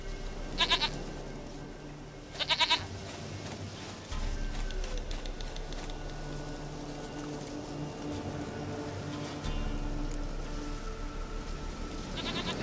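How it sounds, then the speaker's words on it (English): Goat in The Witcher 3 game: two short, loud, quavering bleats in the first few seconds over a low ambient hum, followed by a steady game soundscape with no further calls. "Goat of mine! Dearest,"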